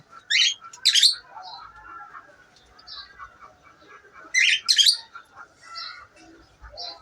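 Pet birds in a home aviary give sharp, bright chirps and calls in a few close, loud bursts with quieter twittering between them, and no one speaks.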